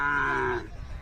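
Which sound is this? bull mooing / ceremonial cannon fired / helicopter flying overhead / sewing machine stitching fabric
bull mooing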